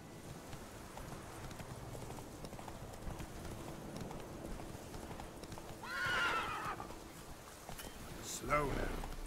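Hooves clop steadily from a horse ridden in the video game Deadlock, with a whinny rising near the end, all sitting under a player's quiet talk.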